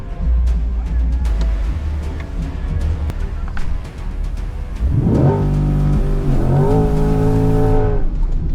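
A Corvette C8 E-Ray launches at 4,000 RPM in a drag race against another E-Ray, its engine building from a steady loud rumble to a rising roar as it pulls away, with voices audible in the background.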